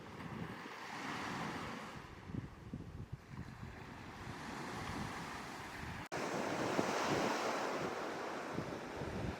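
Ocean waves break against the shore of an island coast, a continuous loud wash of surf mixed with buffeting wind noise on the microphone, swelling again after a brief dip.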